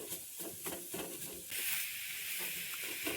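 Horse gram flour being crumbled and dry-roasted on a tawa, with rhythmic scraping and stirring strokes followed by a steady soft sizzling hiss, close and fairly quiet.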